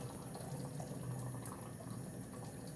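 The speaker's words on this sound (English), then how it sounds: "I'm just going to do a quick wet sand." A guitar body being wet sanded, giving a steady, even hiss of wet abrasion that continues without pause, close up with no talking.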